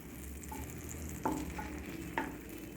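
Bread pieces roast until crisp in a hot pan with a soft, steady sizzle. Two sharper scraping stirs stand out as the pieces are turned, and no one speaks.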